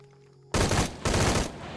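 Loud gunfire in Shadow of the Tomb Raider comes in two dense bursts of rapid shots that begin abruptly after a moment of near silence, with no voices.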